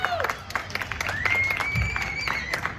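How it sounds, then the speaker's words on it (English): A crowd at a live stage show applauds as a volunteer walks up, a busy wash of clapping with whistles and scattered voices running through it. "Everybody give a big round of applause as he comes up on stage."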